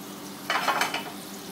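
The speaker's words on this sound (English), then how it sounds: "And it's ready to go into my pan. I'm going to cook the steak today to about medium." A steak sizzles as it is laid into a hot frying pan, a short, quiet burst of crackling frying that swells briefly and then settles.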